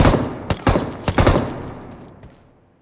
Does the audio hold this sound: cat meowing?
no